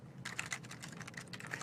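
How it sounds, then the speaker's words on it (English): Rapid, steady clicking of keys on a computer keyboard, close and fairly faint, with no talking. "you can see as I'm typing here that it actually starts showing up in Visual Studio."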